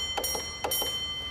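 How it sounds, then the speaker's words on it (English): A railway signal box block bell rings four quick metallic beats in two close pairs, clear and near, with no voices. "4 beats on the bell, you repeat."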